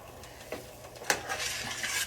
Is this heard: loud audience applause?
no